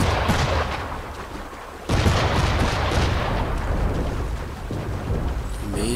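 Cannon and gunfire from Assassin's Creed 3 during a ship battle: loud booming blasts, one sharp heavy report near two seconds, over a dense rumbling, crackling din.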